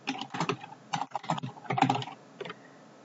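Quick bursts of clicking keys on a computer keyboard while entering text into a spreadsheet in Excel, close and crisp, in short irregular clusters with brief pauses between them.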